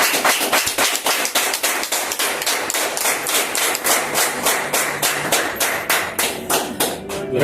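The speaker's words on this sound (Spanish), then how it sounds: "Denle un fuerte aplauso al Señor" A church congregation gives the Lord a strong round of applause, many hands clapping in a fast, steady rhythm that runs unbroken and loud from start to finish.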